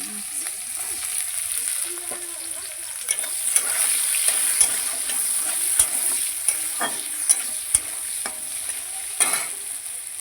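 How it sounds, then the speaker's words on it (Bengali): Chopped onions sizzle steadily in hot oil in a pan, and a spatula stirs them with repeated scrapes and sharp clicks that grow more frequent over time. No one speaks. "পেঁয়াজটা ভাজা হয়ে গেছে"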